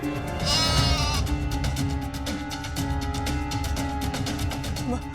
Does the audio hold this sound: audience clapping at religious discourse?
no